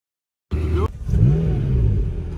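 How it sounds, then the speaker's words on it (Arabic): A McLaren GT sports car engine starting up nearby, a sudden loud catch and bark followed by a brief dip and then a deep rising rev that settles into a rumbling idle. "شغل السيارة."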